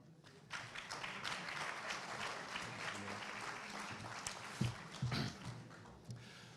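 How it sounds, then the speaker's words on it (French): Applause from an audience at an evening lecture as a guest joins the stage, a sustained dense wash of clapping at moderate distance with a few louder claps near the end. "Vous pouvez l'applaudir"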